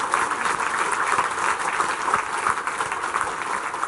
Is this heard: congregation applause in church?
yes